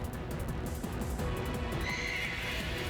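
A horse whinnies in Pokemon Shield, a drawn-out neigh over a dense, busy background of game sound and rhythmic hoof-like clatter.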